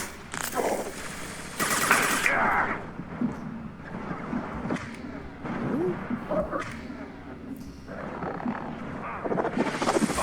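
Mass Effect 2 combat on insanity difficulty at Horizon, with sustained rattling gunfire, roaring weapon and creature noise and bursts of impacts, dense and loud throughout.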